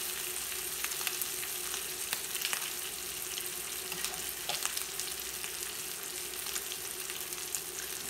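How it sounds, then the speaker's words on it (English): Bacon frying in a carbon steel skillet on a portable induction cooktop, a steady close crackling sizzle with scattered pops and occasional stirring scrapes. "So again, frying up bacon, warm, but not scorching hot."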